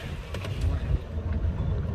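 Duck-shaped pedal boat on the river at Nami Island, a low steady churning rumble and water wash under wind noise, with a few faint clicks, heard from a passing tour bus.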